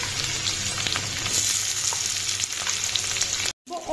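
Carrots go into a hot frying pan for street-style veg chowmein, a loud continuous sizzle with crackling spatter throughout, cut by a brief dropout before the frying resumes.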